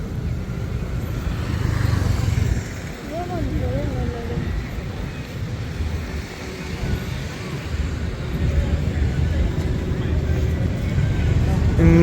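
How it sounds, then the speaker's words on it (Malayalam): A scooter passes along a busy street in Pattaya, Thailand, its engine hum rising and falling amid steady traffic noise and crowd murmur, while a nearby voice talks over it. "ഈ സ്കൂട്ടർ പോയി കഴിഞ്ഞാൽ നമുക്ക് റോഡ് ക്രോസ് ചെയ്യാം."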